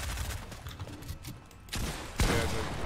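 Gunfire in Fortnite Battle Royale: a dense stretch of game combat noise with a sharp loud burst near the end, continuing steadily afterward with no talk over it.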